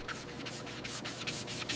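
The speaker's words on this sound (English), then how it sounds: "Wet sanding the first clear with 600 grit to knock down orange peel" Rhythmic back-and-forth strokes of 600 grit sandpaper wet sanding a clear coat on an aircraft restoration, a steady close scratchy rubbing with regular pulses and no voices.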